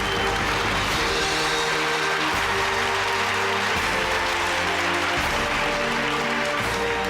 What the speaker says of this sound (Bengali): প্রীতির জন্য একটা হাততালি হোক